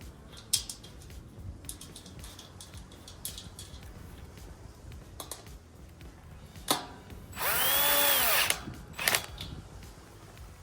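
A screw is driven in with a budget power driver, a brief loud whirring burst near the end, preceded by scattered clicks and handling knocks.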